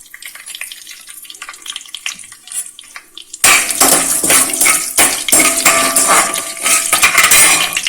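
Broken urad dal dropped into hot oil in a South Indian kitchen bursts into a loud, sudden sizzle partway through, after a quieter stretch of pan and utensil clatter, then crackles steadily with occasional clinks.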